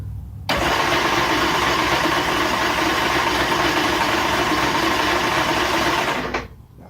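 A mini jet boat engine fires up abruptly and runs at a loud, steady buzzing roar for several seconds during a test, then cuts off and fades near the end.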